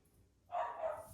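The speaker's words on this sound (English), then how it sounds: "pardon my dogs" A dog barks indoors during a belly dance conditioning workout, one drawn-out bark that starts halfway through and holds for about half a second over quiet room tone.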